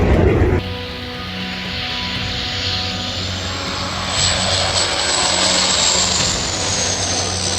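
A firefighting aircraft passes over a forest fire, its engine drone steady and loud, swelling slightly as it draws nearer, with no voices.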